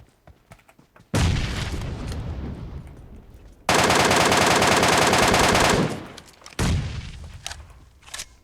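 Gunfire and a grenade blast in a shooter video game: loud sustained automatic bursts start abruptly, a dense roaring explosion-like burst follows for about two seconds, then more rapid shots trail off.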